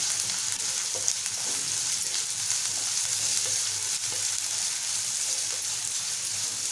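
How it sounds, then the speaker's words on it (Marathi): Chopped onion and green chili sauté in hot oil, giving a steady, close broadband sizzle that holds evenly throughout with faint stirring ticks and no talk. "त्यामध्ये आपल्याला कांदा आणि मिरची जे आपण कापून घेतलंय ते टाकूया। आणि आपल्याला परतवून घ्यायचं आहे।"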